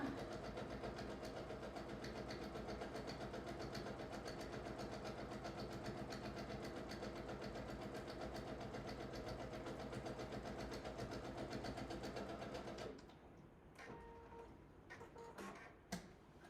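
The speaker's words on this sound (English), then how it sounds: "Stitch down the seam." A sewing machine stitches down a seam on a placemat, running as a steady mechanical whir with rapid rhythmic ticking for about thirteen seconds before stopping abruptly, leaving quieter handling clatter.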